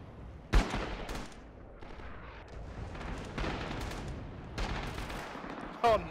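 Gunfire in the World War II shooter Rising Storm on the Hanto map: several sharp shots and bursts, some near and loud, others more distant, ring out over a steady battlefield rumble.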